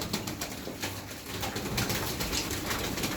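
A flock of Turkish Gittiler pigeons feeds close by, giving soft cooing and fluttering over a continuous busy rustle.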